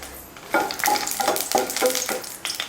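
Dried red chillies frying in a pan for chutney, a steady sizzle broken by a series of stirring scrapes that come roughly every half second, close and fairly loud.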